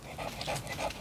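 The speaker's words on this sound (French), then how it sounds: "là il y a mon chien" A dog outdoors pants in quick, close, breathy huffs, three or four rhythmic bursts in about a second, with no voices.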